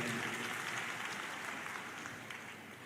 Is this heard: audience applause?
yes